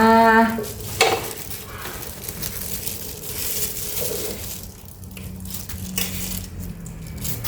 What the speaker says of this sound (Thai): ทีนี้เราก็จะคั้นเกลือค่ะ คั้นเกลือรอบที่หนึ่งนะคะ